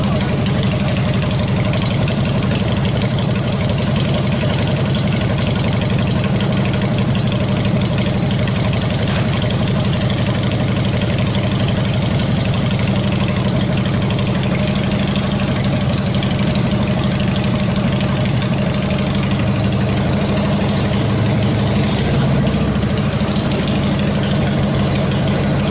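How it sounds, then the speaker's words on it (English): A scaled-down Cobra car's engine idles steadily and close by, a constant low rumble with a slight uneven knock, and the idle is eased down a touch over the span. "I'm just bringing the idle down a little bit is all."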